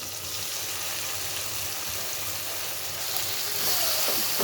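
Fried bitter gourd pieces are tipped into a sizzling spice mix in a pan, and a dense, steady frying hiss swells slightly toward the end.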